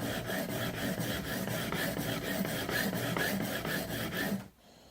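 A kitchen knife is pushed across a whetstone under two fingers in quick, even back-and-forth rasping strokes, close and steady, before the scraping suddenly stops.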